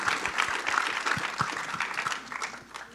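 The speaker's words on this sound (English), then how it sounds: "could we have a round of applause for Dr." Applause from a convocation audience, with individual claps standing out close by, strongest at the start and then tapering off somewhat.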